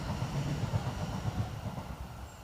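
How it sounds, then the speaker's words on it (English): A train passes at a moderate distance, a faint, steady low rumble with rhythmic rolling pulses and no voices. "Train going by."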